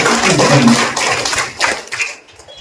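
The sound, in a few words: audience clapping in honour of a person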